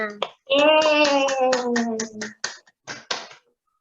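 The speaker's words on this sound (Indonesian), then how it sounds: "Tepuk tangan dulu untuk Mbak Elvina" Children in a classroom clap for a pupil who has just read aloud, their voices chanting in a sing-song rhythm while sharp claps punctuate the pattern and end in a few separate beats.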